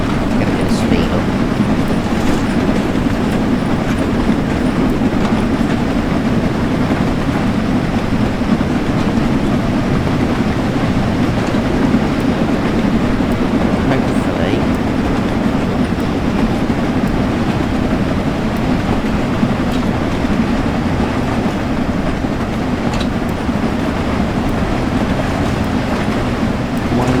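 A steam train running in Train Sim World 5, giving a steady rolling rumble with faint rhythmic rail clatter, loud and unbroken for the whole stretch, with a voice talking over it at times.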